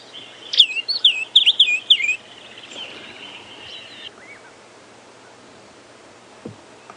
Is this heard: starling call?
yes